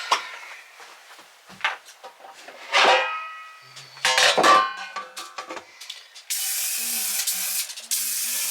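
Several short bursts of aerosol spray hiss onto baking pans for cinnamon raisin bread, followed by a long steady spray near the end, with faint clinks of pans in between.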